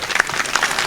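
Audience at a mushaira poetry gathering in Malegaon claps loudly: under a second of dense, uneven applause with sharp individual hand strikes standing out close by.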